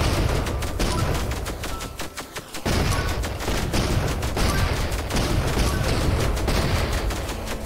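Rapid, continuous gunfire rattles loudly in the video game Octogeddon, with dense overlapping shots and booms that briefly drop out before resuming just as heavily.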